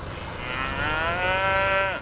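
A single long, loud moo from beef cattle on a farm, swelling over about two seconds and then cutting off, with steady outdoor background noise.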